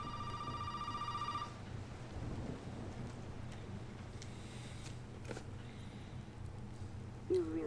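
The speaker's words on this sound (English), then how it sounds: "Oh no, it's the phone." Electronic telephone ringing inside the house in Resident Evil 7 Biohazard, a clear repeating tone in the first moment and a half, then cutting off into low ambient rumble and distant thunder-like noise, with a faint click near the end.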